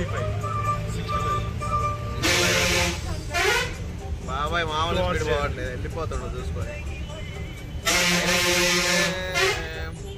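A bus horn honks in loud bursts on a road while riding a bus from Vellore to Arunachalam, with engine rumble underneath and people talking over it.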